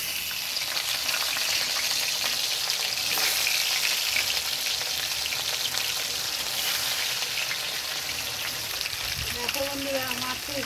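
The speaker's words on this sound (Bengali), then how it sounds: "মাছটাকে আমি ভেজে নেব।" Pieces of rohu fish fry in hot oil with a loud, continuous crackling sizzle that holds steady throughout, close by. A brief voice is heard near the end.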